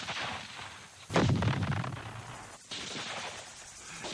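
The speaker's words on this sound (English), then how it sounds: "they faced rifle fire, grenades, and booby traps" Vietnam War rifle fire in the Ho Bo Woods: sustained crackling volleys of gunfire with a heavier, booming burst partway through, continuing to the end.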